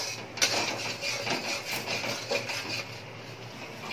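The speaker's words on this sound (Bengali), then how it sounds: "এবার মশলাটা ভালোভাবে একটু নাড়িয়ে চাড়িয়ে একটু কষিয়ে নেব।" Spice paste for a Bengali jackfruit and prawn curry is stirred and fried in a pan, giving a soft repeated scraping of the spatula over a faint sizzle, with no talking.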